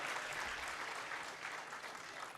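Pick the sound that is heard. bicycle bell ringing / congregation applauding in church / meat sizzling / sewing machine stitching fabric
congregation applauding in church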